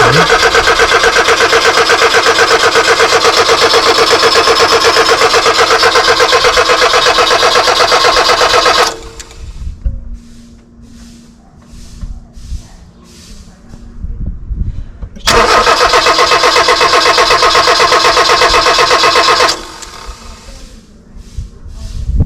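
An old car stored in a barn cranks repeatedly without firing: two long bursts of loud, steady starter-motor churning, separated by quieter gaps with voices and handling noise.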